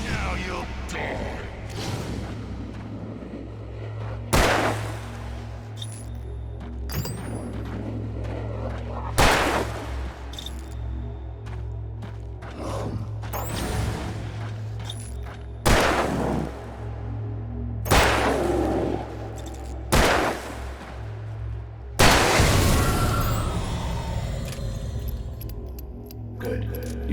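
Gunshots in Alan Wake Remastered ring out as loud, isolated cracks roughly every few seconds, about seven in all, over a low droning ambience.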